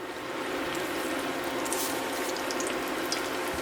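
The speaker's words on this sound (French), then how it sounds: "on va procéder donc à la cuisson de mes beignets" Square beignets frying in a pan give a steady, close crackling sizzle that holds evenly throughout, with no talking.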